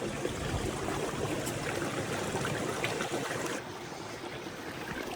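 Constant rushing of a clear mountain stream near a trekking trail in Meghalaya, loud and close, easing slightly toward the end with no voices over it.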